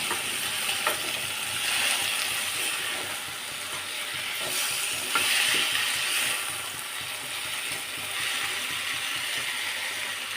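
Tomato fenugreek chutney with tamarind frying in a pan while being stirred, a steady close sizzle with spatula scrapes and soft clicks against the pan at intervals throughout.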